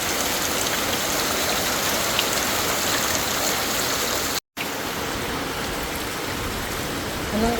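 Heavy typhoon rain pours onto a hut in a dense, steady hiss of drops drumming on the surface, loud and unbroken apart from a momentary dropout, with no talking.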